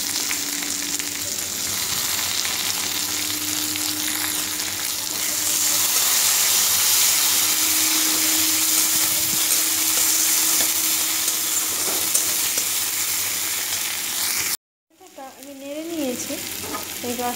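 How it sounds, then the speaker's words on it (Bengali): Onions and chopped tomato fry steadily in a pan while being stirred, a continuous loud sizzle with scraping, cutting off abruptly near the end before fainter sounds and a brief voice. "এবার নেড়ে চেড়ে আমি একটু লাল লাল করে ভেজে নেব"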